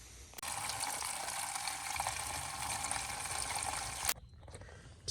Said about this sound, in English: Still draining. There was way more fuel than I thought.